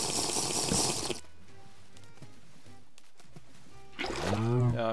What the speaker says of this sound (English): Now we put the water bucket in here.